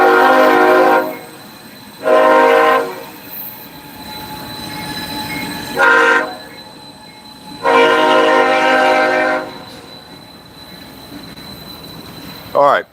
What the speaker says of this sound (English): I'm by a train yard